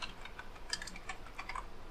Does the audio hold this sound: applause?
no